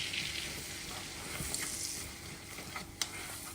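Flour cooking in melted butter or margarine in a pan over low to medium heat for cauliflower cheese sauce, a soft steady sizzle with faint clinks, quiet and continuous throughout.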